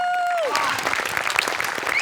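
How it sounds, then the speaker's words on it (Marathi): A studio audience at the Marathi comedy show Maharashtrachi Hasyajatra breaks into loud, dense applause right after a fading musical tone, a sustained clapping roar that fills the hall. "म्युझिकसाठी जोरदार टाळ्या व्हायला पाहिजे."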